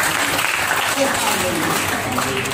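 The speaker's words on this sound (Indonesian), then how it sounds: "Beri tepuk tangan bagi diri kita." Church congregation applauding during an Indonesian sermon, a continuous wash of clapping with no clear pauses.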